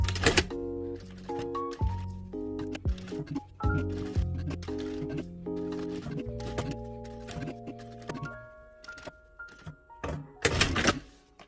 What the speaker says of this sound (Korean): 최대한 바짝 이번에는 박음질 이제 해줄게요